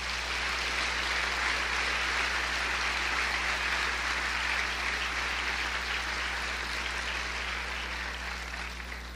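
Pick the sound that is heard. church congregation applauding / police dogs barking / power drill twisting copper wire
church congregation applauding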